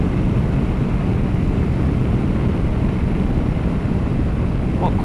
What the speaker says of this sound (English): Very smooth engine this, it's really, really nice.